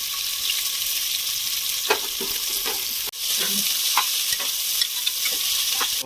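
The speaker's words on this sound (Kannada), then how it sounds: "ಸ್ವಲ್ಪ ಹೀಗೆ ಮಿಕ್ಸ್ ಆದಮೇಲೆ ಚಟಪಟ ಚಟಪಟ ಈಗ ಈರುಳ್ಳಿ ಮಾಮೂಲಿ ಕಂದು ಬಣ್ಣ ಬರುವಾಗ ಉಟ್ಕೊಳ್ಬೇಕು ಈರುಳ್ಳಿನೆಲ್ಲ" Chopped onions frying in hot oil for mushroom biryani, a steady close sizzle with soft stirring scrapes and clinks running throughout, and a brief dip halfway through.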